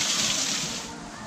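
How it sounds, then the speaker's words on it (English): A waterfall at Pulangbato Red Rock Falls in the Philippines pours in a steady broadband roar, loud and close, with no speech over the constant rushing water. "And there's the waterfall."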